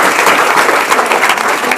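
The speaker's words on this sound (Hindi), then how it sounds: "तो इनके लिए एक जोरदार ताली हो जाए।" Loud, dense clapping for teachers from an audience of students, close and continuous through the short stretch with no talk over it.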